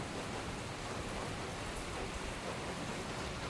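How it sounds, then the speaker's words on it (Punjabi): Steady, dense rain of large, heavy drops pours down loudly and evenly, a constant wash with no pauses and no voices. "ਇੱਕਦਮ ਮੋਟਾ-ਮੋਟਾ ਮੀਂਹ ਆ ਗਿਆ"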